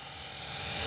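A Blade S330 RC helicopter flies outdoors at sunset, giving a steady, loud rotor and motor whine with broad hiss that builds slightly, with no talking.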